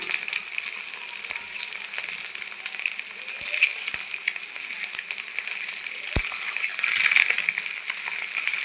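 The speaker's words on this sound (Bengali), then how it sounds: "এখন আমি ডিম ভেজে দেবো" Eggs frying together in oil in a wok, a bright crackling sizzle with scattered pops and a few light knocks from a utensil, steady throughout.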